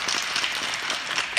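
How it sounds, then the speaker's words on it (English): An audience gathered at an outdoor family day walk breaks into a round of applause, a dense, steady patter of many hands clapping at moderate loudness with no clear voices. "So I think we all should give us a huge round of applause to each other"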